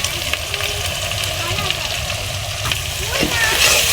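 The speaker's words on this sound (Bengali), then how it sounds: "সমস্ত উপকরণ একসাথে ভালোভাবে নেড়ে ছেড়ে একটু ভেজে নিলাম" Spices with garlic and green chilli paste frying in a pan for a dried fish curry, a steady close sizzle with some stirring scrapes and a swell toward the end.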